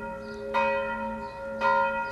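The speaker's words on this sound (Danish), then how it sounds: "For en halv time før en gudstjeneste ringer jeg anden gang med klokkerne, også igen 100 slag." Church bells ring out before a church service. Two loud, resonant strikes about a second apart each leave a long, humming tone with no voices.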